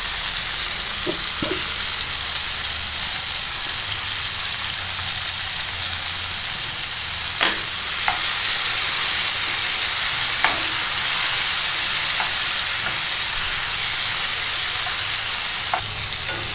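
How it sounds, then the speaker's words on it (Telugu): Tomatoes fry in a pan for a village-style brinjal chutney, giving a steady, loud, close hiss of sizzling oil, broken by occasional scraping stirs of a spoon against the pan, with no voices. "చూసారు కదా టమాటా అనేది బాగా వేగుతుంది"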